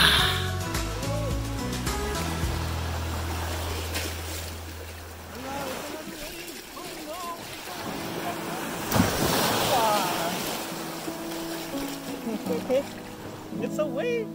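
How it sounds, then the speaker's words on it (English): Ocean waves wash and break on a shore amid gusty wind buffeting the microphone, with surges of surf rising and falling while people talk nearby. "It's a wave. You like those waves? Oh, here comes one."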